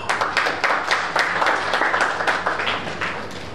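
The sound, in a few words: audience applause at a lecture event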